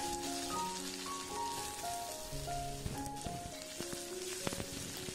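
Finely chopped ginger and lengthwise-sliced green chillies fry in a pan for aval uppumavu. A steady, close, rain-like crackle of sizzling oil runs throughout, with faint sustained tones sounding over it.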